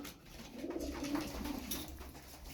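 Tumbler pigeons coo softly nearby in low, throaty, rolling calls, with a few faint rustles and flutters around them.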